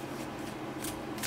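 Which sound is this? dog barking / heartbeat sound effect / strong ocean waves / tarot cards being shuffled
tarot cards being shuffled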